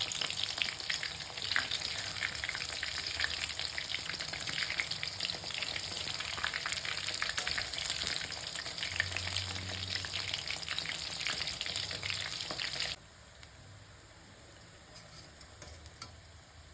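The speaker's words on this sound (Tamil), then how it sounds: "பாருங்கள், நல்லா எண்ணெயில் போட்டு பொரிச்சு எடுத்தாச்சு" Soya chunks deep-fry in hot oil with a steady, busy sizzle and crackle, heard up close and alone; partway through the frying drops abruptly quieter but keeps bubbling softly.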